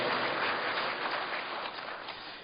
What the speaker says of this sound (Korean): 한번 박수로 우리 하나님께 영광 돌리고